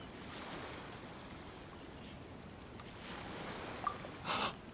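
Ocean waves at Liyue Harbor in the video game Genshin Impact: a soft, steady wash of surf, faint and distant, with a slight swell toward the end.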